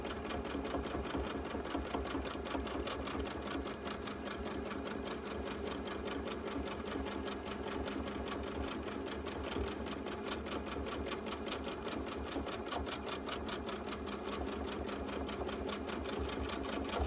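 A sewing machine quilting a baby quilt, stitching through thick layers with a steady, rapid mechanical clatter that runs continuously and evenly throughout, close up and moderately quiet.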